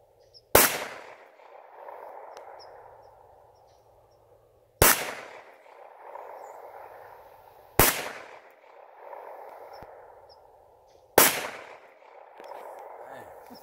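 Four loud, sharp gunshots fired at propane tanks, spaced a few seconds apart, each with a long rolling echo trailing off across open ground, with faint voices in the background.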